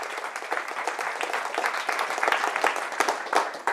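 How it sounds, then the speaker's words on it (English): An audience at a meetup event applauds steadily and fairly close, a dense patter of clapping hands sustained throughout without a break. "Let's have a round of applause for Veena!"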